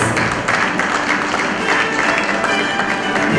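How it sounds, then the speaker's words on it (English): Guests at a philanthropy awards night for the TCS World 10K Bengaluru give a guest a round of applause, steady dense clapping filling the hall with a faint tonal background underneath. "a huge round of applause for him, please."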